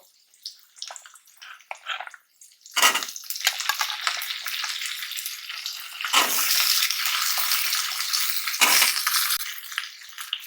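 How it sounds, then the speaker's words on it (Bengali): Flat beans (shim) dropped into hot oil in a pan, where fish pieces have already fried with green chillies: a sudden loud, steady sizzle follows the first quiet clatter and swells again as more beans go in. "আমাদের পিসগুলি ভাজা হয়ে গিয়েছে এখন আমরা সিমগুলো দিয়ে দিব"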